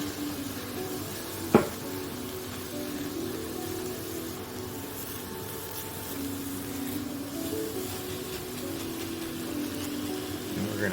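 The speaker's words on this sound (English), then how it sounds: "Now we're going to deglaze this with a little bit of white wine." Italian sausage in a pan sizzles steadily as white wine goes in for deglazing, with a single sharp metallic clank early on and soft scraping and stirring under the continuous frying hiss.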